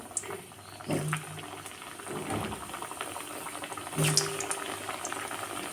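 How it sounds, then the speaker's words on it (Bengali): Potatoes go into hot mustard oil in a wok for a mutton curry, a bubbling, crackling sizzle with two louder bursts as pieces hit the oil or are stirred, moderately close. "এবার আমি আলুগুলো এবার দিয়ে লাল লাল করে ভেজে নেব"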